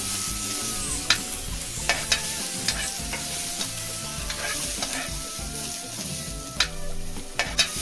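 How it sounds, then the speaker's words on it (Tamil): Curry leaves sauté in hot oil in a pan while cooking red bean gravy, giving a steady close sizzle and frying crackle punctuated by sharp scrapes and taps of a stirring spoon, with no voices. "போட்டு நல்லா பச்சை வாசனை போடுறதுக்கு நல்லா வதக்கி விட்டுறலாம்."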